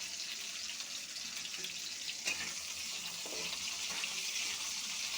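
Sliced bitter gourd (ucche) frying in oil in a pan as part of a home cooking session, giving a steady, dense sizzle that holds unbroken throughout, with faint stirring scrapes and a few small clinks.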